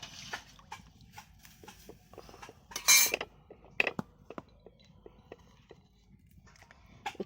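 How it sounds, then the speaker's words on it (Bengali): A spoon stirs rice in two kilos of milk in a pot, giving sparse, quiet clinks and scrapes against the metal, with one louder scraping stroke in the middle. "এবার আমি ভালো করে নাড়াচাড়া করে নিচ্ছি চালটাকে।"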